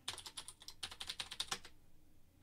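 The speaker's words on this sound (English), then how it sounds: "I didn't type my password in right." A password typed on a computer keyboard, a quick run of about a dozen crisp close key clicks in uneven rhythm, stopping abruptly and leaving near silence.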